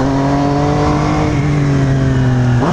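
A motorcycle with a modified exhaust drones loud and close at a steady pitch on a highway, then revs up sharply at the end.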